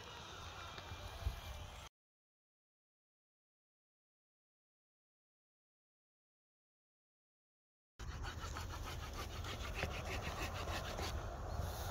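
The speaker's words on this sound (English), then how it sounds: "It's a 12 inch saw." A 12-inch Opinel saw cuts through wood at a wild campsite in Scotland. Close rhythmic rasping strokes are heard, then a long silent break, then steady sawing again.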